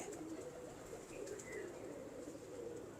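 A pigeon coos in low, soft, rolling murmurs, continuous and fairly faint, with a light hiss of background noise.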